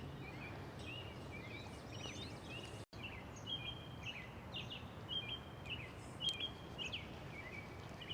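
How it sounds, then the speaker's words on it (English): Birds chirp faintly in a sunny cemetery, scattered high tweets and short calls over a steady low background hum, distant and quiet throughout, no speech. "What a beautiful day as you hear the birds chirping in the background."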